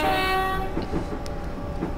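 A train horn sounds in Train Simulator, a steady multi-tone blast held loud for most of a second before fading, with rail rumble and a rolling clatter continuing underneath.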